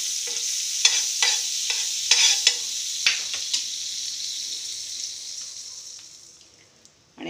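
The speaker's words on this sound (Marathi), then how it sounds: "आता आपण पॅनला असं बटर लावूया, असं भरपूर लावायचं." Butter sizzling in a frying pan makes a steady, close hiss with scattered light scraping ticks, gradually fading toward the end.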